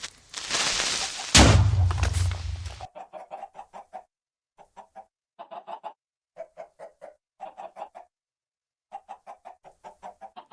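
In a video game, a loud burst of noise gives way to a series of short, rhythmic chicken clucks in repeated clusters, separated by brief pauses.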